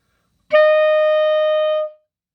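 One held F rings out on a clarinet with the register key down, a bright steady tone lasting about a second and a half, close and alone, starting sharply and tapering off cleanly.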